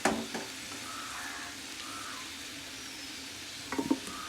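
Onions and tomatoes for chicken biryani hiss gently in a pan, the soft steady sizzle punctuated by a clatter at the start and a short burst of stirring scrapes near the end, with no talking.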